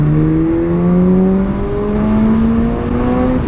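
2019 Kawasaki ZX-6R motorcycle accelerating hard from 20 to 60 mph, a loud, close engine howl with pitch climbing steadily through the gears and short dips at each shift, without speech.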